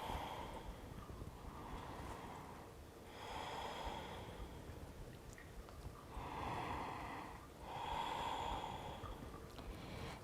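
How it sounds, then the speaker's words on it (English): Deep, slow breaths during a yoga flow, each long inhale and exhale rising and falling in a steady rhythm over about ten seconds, close to the microphone with a rough, airy texture and no talking. "Deep breathing."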